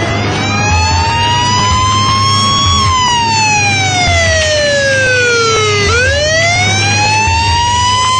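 An emergency siren wails loud and steady throughout, its pitch sweeping slowly up and down in long cycles over low traffic rumble, with no talking.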